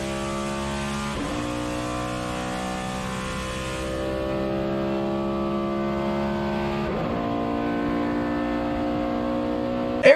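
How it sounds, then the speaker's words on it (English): Engine of a NASCAR Next Gen race car heard from onboard: a loud, steady high-revving drone that dips briefly at two gear changes, including the upshift into fifth, then climbs again. "Eric Jones shifting into fifth gear"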